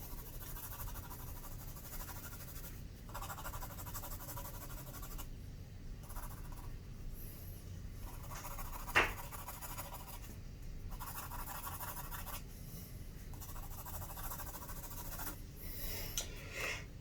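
Graphite pencil shading on paper for continuous tone, soft steady scratching strokes in rhythmic back-and-forth bursts, close and quiet, with one brief sharper tap midway.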